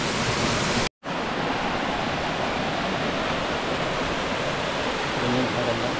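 A waterfall at Montalban, Rizal roars in a steady, loud, close wash of rushing water, broken only by a brief cut to silence near the start.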